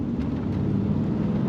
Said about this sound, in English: So 454 downshifts the passing gear just like it should.